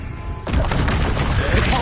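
A sudden heavy blast from the Confringo fire spell in Hogwarts Legacy, erupting loud and broadband after a brief lead-in and sustaining a roaring, crackling wash for over a second.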